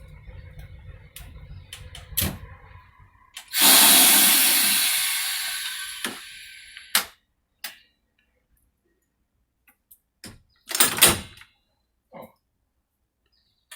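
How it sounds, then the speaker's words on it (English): Doors on a Como-Harriet line streetcar slide open with a loud hissing rush that fades over about three seconds, followed by sharp clunks and knocks inside the car; no talking. "Back door is open. Doors are open."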